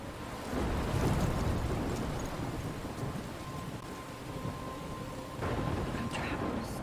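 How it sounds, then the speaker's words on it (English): Thunderstorm in the video game Life is Strange: heavy rain pours continuously while deep thunder rumbles and swells, loud and enveloping, with faint surges later on. "I'm trapped in a storm."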